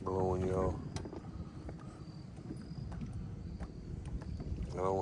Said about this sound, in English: Wind blowing, y'all.